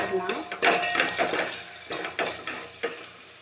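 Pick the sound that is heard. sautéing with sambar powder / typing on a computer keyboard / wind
sautéing with sambar powder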